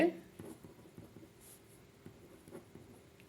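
A pen scratching out a ninth-grade algebra solution, soft strokes in short bursts close to the microphone, quiet and thin under a faint background hum.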